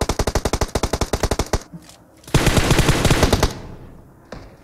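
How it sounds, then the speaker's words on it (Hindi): Rapid automatic gunfire in the battle royale game PUBG: a loud, evenly spaced burst of shots, a short pause, then a second dense volley, with a faint shot at the end and no talking. "टीम नंबर 24 की तरफ से फायरिंग चल रही है"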